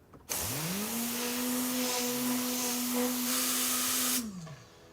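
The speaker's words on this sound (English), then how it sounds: "it's a high pressure cyclonic cleaner, believe it or not" A high-pressure cyclonic air cleaner blowing dirt out of a car cloth starts with a rising whine, holds a loud, steady rushing hiss for about four seconds, then winds down and stops.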